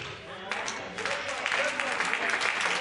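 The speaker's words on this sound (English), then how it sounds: "the claps are far and few" Sparse clapping from a church congregation during a sermon, a few scattered claps rising into a thin patter of applause under the preacher's voice.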